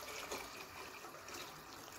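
Water pours steadily into a pot of chickpeas being cooked at home, a continuous soft splashing trickle that stays even throughout, with no voices.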